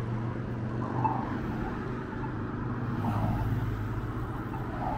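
Road traffic on a city street near a pedestrian crossing, a steady low rumble of passing cars with a faint swell as vehicles go by, heard from the roadside.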